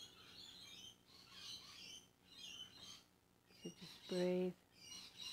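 Birds squawk and chirp outdoors in scattered high bursts, with one loud harsh call near the end, while someone speaks softly over them.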